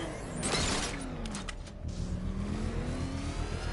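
Batmobile engine in the video game Batman: Arkham Knight, revving with gliding pitch sweeps and a throaty rumble, loud and close with brief mechanical clatter midway.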